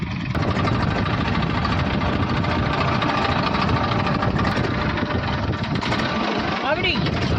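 A tractor hauling manure runs steadily and loudly throughout, a constant rumbling drone with a rattly texture.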